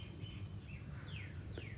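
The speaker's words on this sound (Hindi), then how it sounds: "महसूस कीजिए चिड़ियों की धीरे धीरे आती हुई चहचहाट।" Birds chirp softly at a distance, a few thin descending calls over a steady low rumble of background noise.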